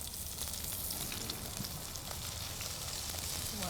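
Meat searing in smoking-hot oil in a pan, a steady soft sizzle and crackle that holds evenly throughout with no talking.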